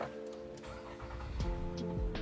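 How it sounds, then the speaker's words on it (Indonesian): A Nissan Murano V6 engine in an MPV starts with a short crank and catches into a smooth, close idle that rises slightly, with no talking over it. "sekarang kita hidupkan mesinnya. Ini mobil memiliki mesin Nissan Murano V6 yang halus sekali."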